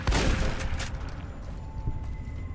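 Grenade launcher explosion in the Fallout video game, one loud boom that hits at once and fades into a rumbling tail over a couple of seconds.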